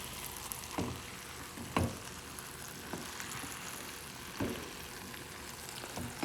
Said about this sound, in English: So we take the butter and then put the tortilla in and heat it up.